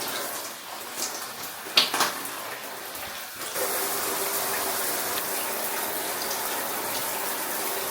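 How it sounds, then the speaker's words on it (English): A shower switches on after some faint knocks and clatter, then running water hisses steadily and close, filling the space with a continuous spray. "So I'm gonna jump in the shower now."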